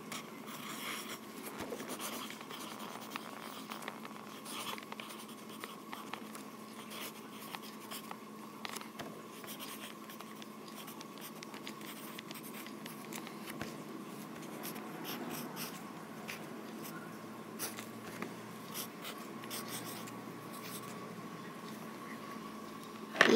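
Graphite pencil scratches steadily across paper while cartoon characters are sketched, a continuous dry rasp of close strokes and small pauses, with no voices.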